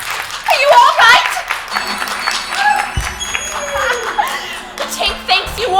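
An audience claps for Tinker Bell in an animated Peter Pan scene, with patter of hands mixed with children's voices, chatter and a character speaking over it, lively and close.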